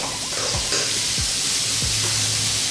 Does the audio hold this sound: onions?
yes